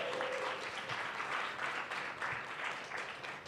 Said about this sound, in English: can we give them another round of applause for that?